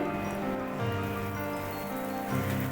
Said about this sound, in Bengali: এই মিশ্রণটাকে ছোট ছোট বড়ার শেপে দিয়ে দিব তেলে